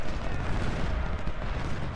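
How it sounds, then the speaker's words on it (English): Cannon and rifle gunfire on a Civil War battlefield in Ultimate General: Civil War, a dense, continuous rumble of overlapping volleys and booms with no clear gaps, and faint talk beneath. "we're able to focus our gunfire on him as he runs away from our cannons"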